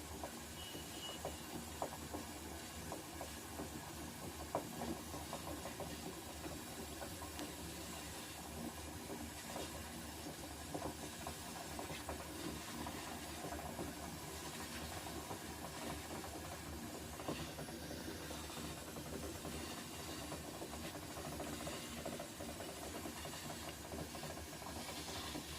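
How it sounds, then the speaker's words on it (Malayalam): Water boils in a pot for a sweet corn salad, a continuous low rumbling bubble and hiss held steady and fairly faint at close range, with no talking. "നല്ലതായിട്ട് ഇത് തിളച്ച് വരുന്നുണ്ട്"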